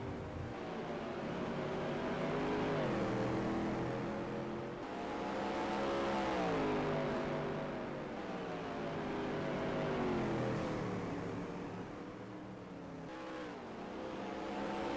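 Non-wing supermodified race cars in a sim racing video game, a continuous loud engine roar rising and falling as the cars rev and pass, with no talking.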